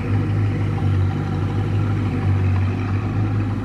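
A Bugatti Bolide hypercar's engine, heard in Dubai, holds a steady low rumble at close range with no talking, like idling.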